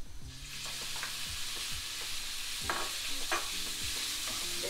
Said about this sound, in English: now you fry the bacon for another 5 minutes or so